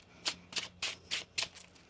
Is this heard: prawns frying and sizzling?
no